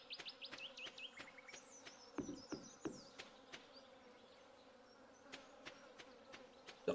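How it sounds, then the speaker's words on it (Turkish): A bee buzzes softly in the Stardew Valley farming video game, a faint wavering drone over quiet background game sounds and scattered clicks. "Arı sesi geliyor sanki."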